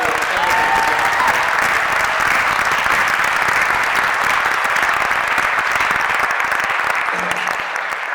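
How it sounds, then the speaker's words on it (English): Loud, sustained applause fills a benefit concert hall for the performers, an even wash of clapping from a large audience lasting throughout. "Please give them a round of applause"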